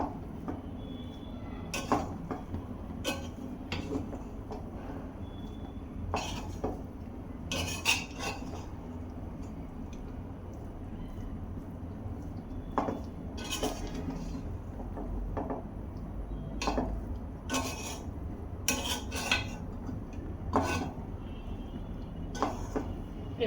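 A spoon scrapes and clinks against a pot while hilsa pilaf is turned and mixed, with irregular metallic taps over a steady low kitchen hum, fairly quiet and close.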